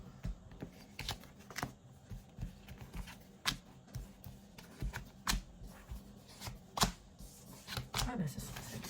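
Oracle and tarot cards being shuffled and drawn, with a run of quick soft slaps and flicks in an irregular rhythm, close and fairly quiet, while a person talks.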